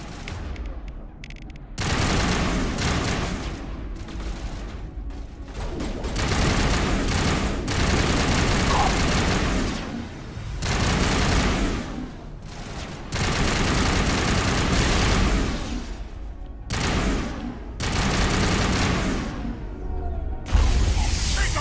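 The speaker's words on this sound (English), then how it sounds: "We're shooting from the balcony." Sustained gunfire in the Mass Effect video game, dense automatic bursts with heavy thuds lasting several seconds each and separated by brief lulls, loud and close throughout.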